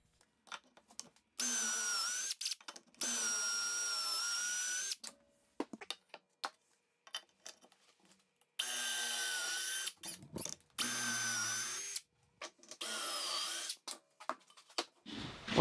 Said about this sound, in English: you're going to use the drill and drill down to the stop